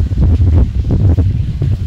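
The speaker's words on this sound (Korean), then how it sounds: "개덕폭포가 그래도 물은 안 끊어져 꾸준하게 떨어지는 것이 너무나 좋습니다" Gaedeok waterfall at Gaedeoksa temple on Seodaesan mountain, water falling steadily: a loud, close, continuous rushing roar with gusty low rumble.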